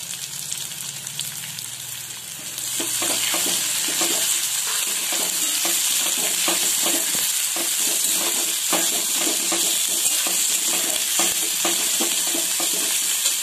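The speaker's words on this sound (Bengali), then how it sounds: "আমি এবারে পেঁয়াজ কুচিটা দিয়ে দিচ্ছি।" Chopped onion drops into a hot pan and immediately bursts into a loud, steady sizzle, while a utensil scrapes and stirs it in rhythmic strokes over about ten seconds, with no one speaking.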